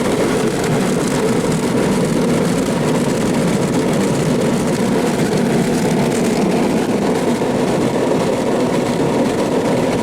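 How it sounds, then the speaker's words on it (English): Ryko Premier XL car wash dryer blowers fitted with silencers roar steadily and loudly at close range, a constant low-heavy rushing drone with no breaks across the whole stretch. "the Premier XL has got the silencers on the blowers"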